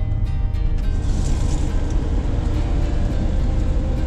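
A truck's vent blower motor runs steadily, a loud continuous whooshing rush of airflow with a low rumble, close by and unbroken, with no talk over it.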